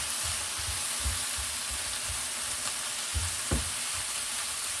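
Pork browning in a pan for pork in salsa verde, with a steady close sizzle and a few brief clacks of a utensil against the pan.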